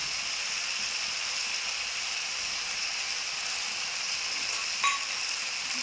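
Winter vegetables frying in a pan with green chillies, chilli powder, cumin powder and ginger paste give a steady, even sizzle that holds for the whole stretch, with one brief clink of a utensil near the end.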